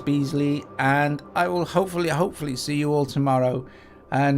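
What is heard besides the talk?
No everyday noise stands out behind the speech.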